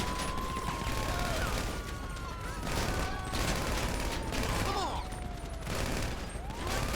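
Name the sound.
gunfire in GTA V video game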